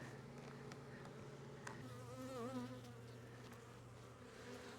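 Honeybees emerging in a beehive make a close, continuous buzzing hum, with individual bees droning louder as they pass near.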